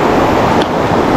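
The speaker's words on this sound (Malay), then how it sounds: "Nah kawan, ini sungai utamanya kawan." A main river flows in a constant broadband rush, loud and close with a slight wind-like texture, heard alone for a brief moment.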